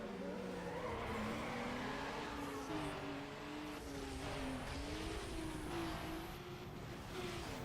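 A drag-race car in Need For Speed Underground revs hard, its engine tone rising and falling in smooth sweeps as gears change, loud and continuous with tire noise beneath.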